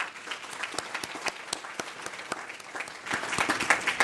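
An audience at a healthcare presentation breaks into a round of applause, a dense crackle of many hands that swells slightly toward the end, steady throughout with no speech over it.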